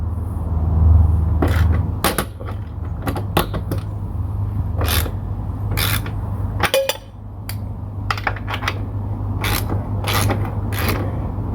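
A ratchet works loose the 22 mm rear axle nut on a Kawasaki Vulcan S 650 motorcycle, giving quick bursts of sharp metallic clicks in uneven runs over a steady low hum, close and fairly loud.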